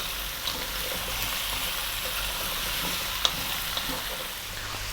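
Spiced pumpkin soup base fries on medium heat with a steady close sizzle, broken by a few faint scrapes and taps from stirring.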